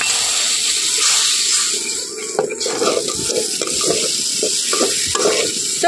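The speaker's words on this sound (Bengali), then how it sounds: "আরও একটু এর সঙ্গে জল দিয়ে খুব ভালোভাবে কিন্তু মশলাটাকে কষিয়ে নেব।" Spice paste soaked in water is stir-fried in a pan for a Bengali fish roe dish, with a continuous sizzle, steady hiss and repeated scraping strokes of a spatula against the pan.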